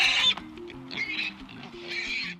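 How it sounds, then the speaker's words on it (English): Nasal grunting and oinking calls repeat in uneven bursts, fairly close and moderately loud, like pigs snuffling. "Next there came a pair of pigs"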